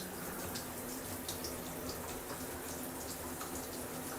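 Hot water runs steadily from a tap in a continuous, even hiss of flow with no talk.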